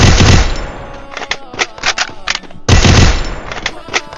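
Rapid SMG bursts in the Free Fire mobile shooter, loud and close, firing in several clipped volleys with short gaps between them.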